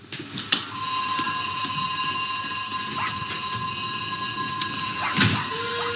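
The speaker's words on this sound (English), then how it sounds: "Sound the alarm." A stage-play alarm rings continuously, a loud, steady electronic tone with a sharp clang at the start and a few brief knocks beneath it.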